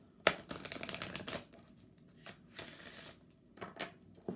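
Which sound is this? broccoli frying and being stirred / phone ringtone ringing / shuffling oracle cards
shuffling oracle cards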